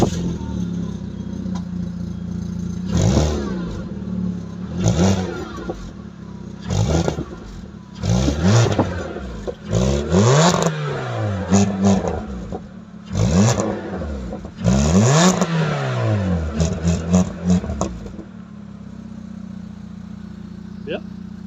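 A BMW 320i engine starts and revs in repeated bursts, the pitch climbing and falling with each throttle blip over a steady idle. People talk over it throughout.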